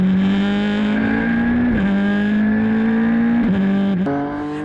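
Race cars at Fuji in the Asian Le Mans Series, a loud engine climbing in pitch under acceleration and dropping sharply at three gear changes, steady and close without talking.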